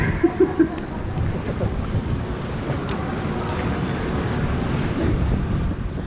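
A river cruise boat's engine rumbles steadily on the San Antonio River in the evening, with low wind buffeting the microphone and a few brief tones near the start.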